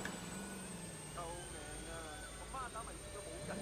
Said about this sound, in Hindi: हेलीकॉप्टर भी आ चुके हैं.